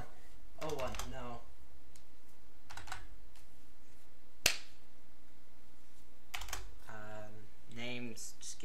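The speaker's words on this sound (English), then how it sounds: "Is my keyboard loud enough?" Computer keyboard typing during a Stellaris gaming session, with clusters of rapid keystrokes at a moderate, close level, broken by a single sharp click and quiet gaps.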